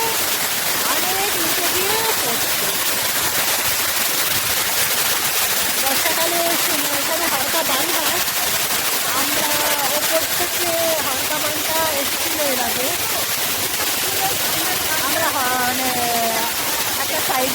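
A waterfall pours far down in Purulia, a loud steady broadband rush filling the whole clip, with people talking continuously over it.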